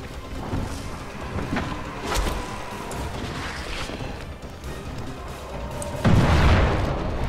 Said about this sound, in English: it blew up the nest and the barricade